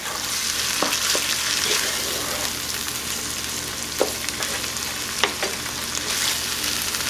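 Onions and tomatoes sizzle steadily in a frying pan for Mexican cowboy beans with bacon and jalapeño, with a few sharp utensil knocks as the tomatoes are mashed. The hiss is continuous and close, with no talking.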